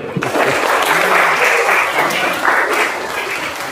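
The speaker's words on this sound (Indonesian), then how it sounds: "Tepuk tangan dulu." A short burst of steady group clapping from students in a classroom lesson, dense and close, with faint voices underneath.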